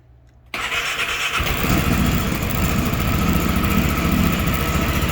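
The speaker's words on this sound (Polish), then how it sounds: "Uruchomimy silnik." A Piaggio MP three-wheeled scooter is started from rest. There is a brief quiet moment, then the engine catches abruptly and settles into a loud, steady idle close by.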